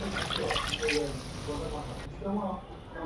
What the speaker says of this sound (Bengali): আলু পটল ডিম কষানো হয়ে গেছে এবারে জল দিয়ে দেবো জল